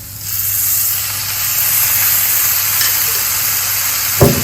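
Sticky teriyaki sauce poured over jackfruit already frying in a pan gives a loud, steady sizzle and hiss, with a short splash or scrape near the end and no talking.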